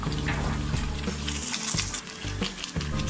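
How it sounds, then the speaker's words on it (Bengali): Spices and whole chicken sizzling in a pan over medium heat for a Bengali roast chicken, steady frying crackle with occasional scraping stirs close by. "চুলা রাস্তা মিডিয়ামে রেখে আমি মশলাগুলোকে ভালোভাবে কষিয়ে নিচ্ছি।"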